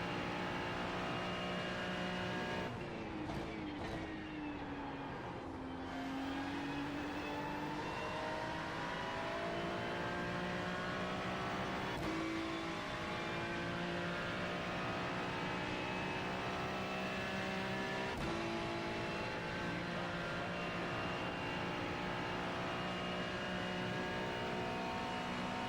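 Race car engines drone steadily through a racing video game, harmonic whine rising and falling as the cars shift and accelerate, loud and continuous with no talking.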